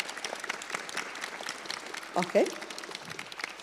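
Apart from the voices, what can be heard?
short applause for panelists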